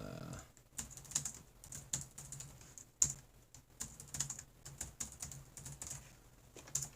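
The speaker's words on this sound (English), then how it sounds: "Typing as fast as I can here." Rapid, uneven clicking of keys on a computer keyboard, close and fairly quiet, with bursts of taps, short pauses and a few sharper keystrokes.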